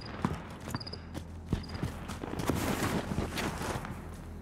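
Quick running footsteps from the zombie mode of the video game Warzone, a rapid irregular patter of hard steps with a few sharp clicks, fairly loud and continuous.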